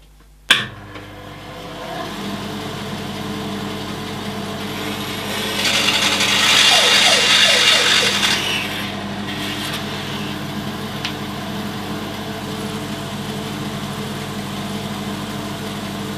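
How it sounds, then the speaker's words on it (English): A bandsaw cutting through a laminated wood blank for woodturning: a sharp start, then a steady motor hum with a rising, louder rasping cut in the middle that eases back to the running drone, no speech. "now we can put it through the bandsaw."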